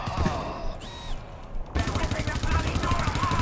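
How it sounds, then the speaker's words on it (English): Sentry gun in the shooter game GTFO fires in rapid bursts, dense automatic gunfire filling most of the stretch with a brief lull near the middle, loud and close, with speech alongside. "Man, sentry gun. Don't get shot by my sentry."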